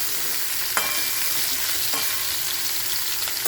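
Potato, capsicum and meal maker fry in a pan with a steady, close hiss, broken by a few sharp clicks of a spoon stirring against the metal; no one speaks.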